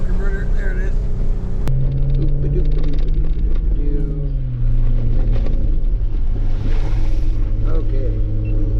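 A Jeep Rubicon engine revs and strains while driving into deep snow ruts, loud and close. The pitch rises and then shifts as the torque converter loads up, and a person talks over it.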